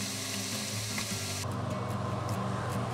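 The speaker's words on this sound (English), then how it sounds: "I like to cook the bacon on a low heat to render the fat" Bacon rendering its fat in a pot over low heat, with a steady, close crackling sizzle and no talking.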